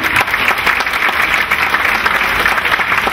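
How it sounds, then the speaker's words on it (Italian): A live stage-show audience gives loud, dense applause for the volunteers, a continuous close wash of clapping with no voices over it. "Facciamo un applauso per i volontari per cortesia."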